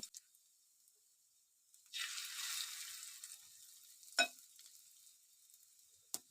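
Fish roe fritter batter lowered spoonful by spoonful into hot oil, giving a soft sizzling hiss that swells for about a second, then settles to a faint fry with a couple of sharp clicks.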